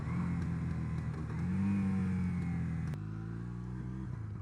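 A 36-year-old motorcycle accelerating in second gear, its engine note rising steadily and close by, then dropping briefly and climbing again after a shift-like break.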